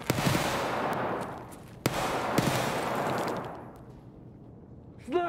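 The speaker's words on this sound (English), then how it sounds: "Sniper gun!" Sniper rifle gunshots ring out in Escape From Tarkov, several sharp loud cracks with long rolling echoes decaying into a tail, followed by a brief rising whine near the end.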